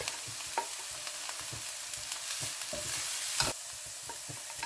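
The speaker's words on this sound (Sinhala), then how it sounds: "ඉඟුරු සුදුලූණු එකතු කර එළවලු ටික ටෙම්පරාදු කරගන්න" Vegetables stir-fry with ginger and garlic in a pan, a steady bright sizzle broken by repeated scraping and tossing strokes, close up with no voices.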